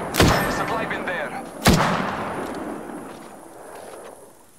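Two heavy, booming gunshots in the video game Apex Legends, spaced about a second and a half apart. Each one is loud and close and leaves a long, rumbling tail that fades away afterward.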